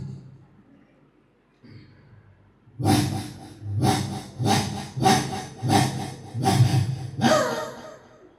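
After a quiet start, a voice imitates a dog with about six rhythmic, breathy barks in quick succession, close and fairly loud.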